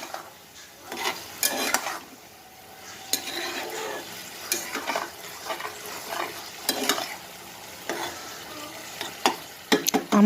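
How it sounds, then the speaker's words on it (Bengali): Onion bhaji being stirred as it fries in a pan after the lid is lifted, with sizzling under repeated scraping strokes of a utensil against the pan and a few sharp metallic clinks; no talking. "ঢাকনাটা উঠিয়ে আমরা একটু নেড়ে দেব।"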